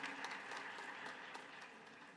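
Audience applause for performers at a children's hospital event in Washington sounds faint and distant, a soft, even patter of many hands clapping through a short stretch without speech.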